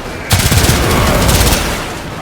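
Rapid automatic gunfire from the Warframe video game erupts in a loud, dense burst of closely spaced shots lasting just over a second, then fades into a ringing tail.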